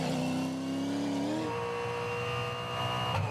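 Onboard with a Supercars race car at Sandown, the engine screams loud and close, holding a high note before a sharp gear change drops the pitch, then climbing again under steady mechanical roar.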